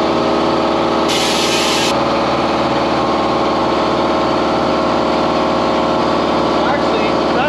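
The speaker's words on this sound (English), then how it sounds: "Now we gotta sand this down to a pretty big lip." A power sander grinds down a freshly cut piece of wood into a pretty big lip, making a steady, loud, close rubbing drone that runs unbroken throughout.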